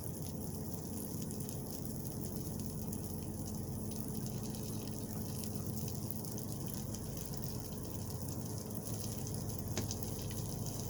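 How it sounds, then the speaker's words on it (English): Water poured out of an Instant Pot while cooking a steak dinner on a truck, a soft continuous trickling wash, faint and steady throughout with no voices. "I'm going to pour some of what I have out."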